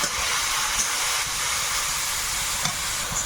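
Spice masala sizzles loudly in a pan as water is added, a continuous close hiss of steam with faint stirring scrapes underneath.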